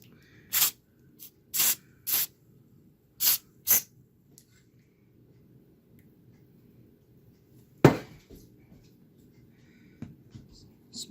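Lithium grease lubricant sprays in several short, close bursts, five or six quick hisses in the first few seconds, then one sharper spurt after a pause with faint clicks around it.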